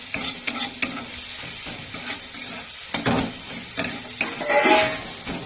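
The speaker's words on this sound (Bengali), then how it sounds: "ধনে পাতাটা দিয়ে একটু কষাবো।" Coriander leaves are sautéed into a fish curry in a pan, with a close hissing sizzle and repeated scraping strokes of stirring that swell toward the end.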